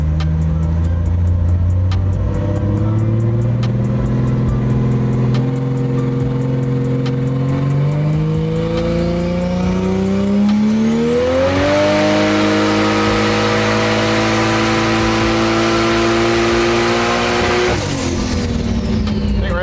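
A Barra car engine on a dyno revs continuously, climbing steadily in pitch through a long pull before dropping off at the end, loud and close, with a possible spark plug misfire.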